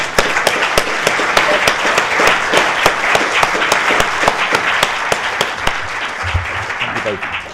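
An audience at an emissions reduction conference applauds its panellists: steady, dense clapping for several seconds at close range, fading slightly at the end, with a brief voice near the close.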